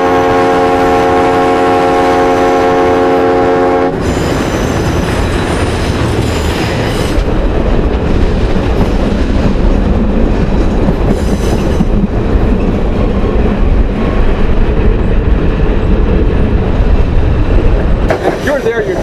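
A Tioga Central Railroad train sounds a long, steady horn blast in the opening seconds, then runs on with a loud, continuous rumble and rattle of the cars rolling along the track, with further horn blasts near the end.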